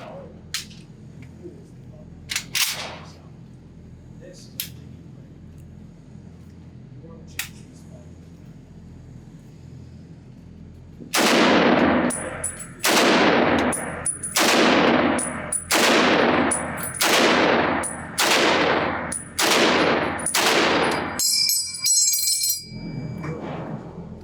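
A 1945 Springfield Armory M1 Garand rifle fires eight loud, sharp rounds at a 10-yard range in a steady rapid string, followed by a brief metallic clink at the end, with a few fainter handling clicks beforehand.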